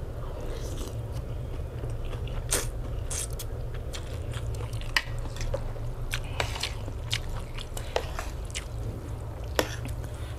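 Crisp bites and chewing of crispy fried chili served alongside a Thai rice noodle and forest curry meal, with sharp, irregular crunches close to the microphone over a steady low background hum.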